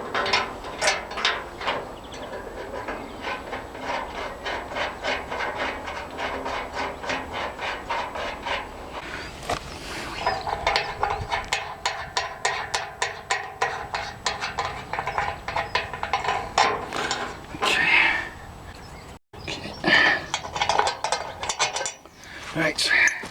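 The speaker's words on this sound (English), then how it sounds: "first job is to unscrew these." Bolts being unscrewed from a wheelbarrow under repair, with a steady run of metallic ratcheting clicks and clinks, close and continuous, with a few louder knocks near the end.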